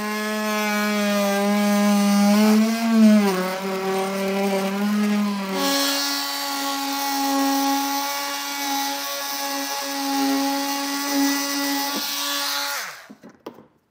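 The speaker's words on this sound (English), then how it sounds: "I'm gonna use a multi-tool to cut this out." An oscillating multi-tool cuts through the plastic bumper panel of a 2021 Ford Bronco Sport, giving a loud, continuous buzzing whine that shifts pitch partway through and then stops abruptly at the end.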